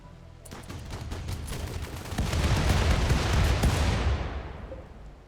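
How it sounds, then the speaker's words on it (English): A quad anti-air gun in the game Rimworld fires explosive bullets in a dense, continuous rattle of blasts. The volley swells louder midway, then gradually fades, with no voices. "Apparently the quad anti-air gun shoots explosive bullets"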